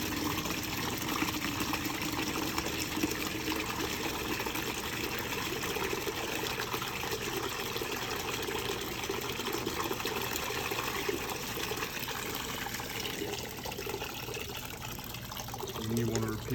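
Water draining out of a Taylor C002 continuous dispensing machine during cleaning, a steady broadband rush and trickle running continuously throughout, with a voice speaking over it.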